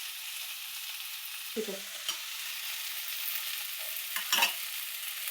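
Okra fries with garlic in a pan, a soft, steady sizzle with a few stirring scrapes and clinks. A brief word is spoken.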